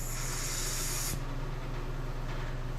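Carburetor cleaner sprays in a strong, steady hiss into the float bowl of a Yamaha Big Bear carburetor, cutting off after about a second and leaving a quieter background hiss.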